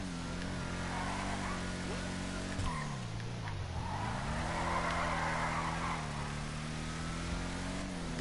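A car in GTA 5 driving around a city block, a steady engine drone with shifting pitch as it speeds up and slows, tire noise rising mid-way, continuous and fairly loud.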